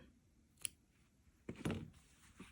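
Scissors snip through crochet yarn with a couple of quiet, crisp cuts, close and isolated against a hushed background.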